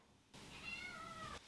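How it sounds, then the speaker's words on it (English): A newly bought cat gives a single faint, drawn-out meow, a quiet rising and falling call lasting about a second with no talk. "She's meowing."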